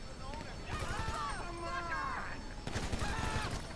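Gunfire crackles in GTA Online, with rapid shots and bursts mixed with game noise under almost constant excited talking from a player.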